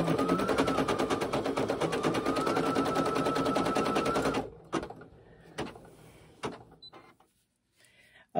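Brother PE800 embroidery machine stitching a kitchen drying mat, a fast steady mechanical rattle for several seconds that stops abruptly, followed by a few sharp clicks and knocks near the machine.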